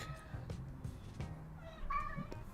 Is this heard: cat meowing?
yes